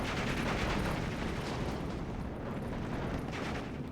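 A Panzer III tank fires in a World War II video game, a dense, continuous roar of cannon blasts and battle rumble that stays loud and steady throughout, with no clear gaps.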